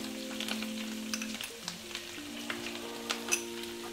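Bottarga and parsley frying in a pan for Sardinian linguine alla bottarga, giving a steady close sizzle with scattered small pops and crackles throughout, alongside a faint tonal hum.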